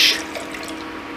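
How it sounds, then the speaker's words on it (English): A short splash of beef broth pours into tomato sauce, a quick liquid gush followed by faint dripping and trickling. "I'm going to add about 1/4 of a cup of our cup of beef broth"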